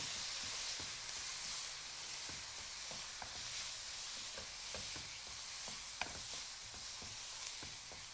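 Rohu-free kitchen scene: a chicken dish with garlic sauce gets a final stir after a tablespoon of grated coconut goes into the pan, giving a steady sizzling hiss broken by regular scraping strokes of the spoon, close and moderately loud.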